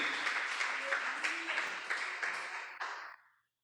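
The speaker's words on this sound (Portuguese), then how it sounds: "Vamos aplaudir ao Senhor." A church congregation breaks into applause, a dense wash of many hands clapping that holds steady for a few seconds and then quickly dies away.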